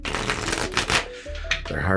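A worn deck of bent tarot cards is shuffled by hand up close, giving quick bursts of papery riffling and clattering.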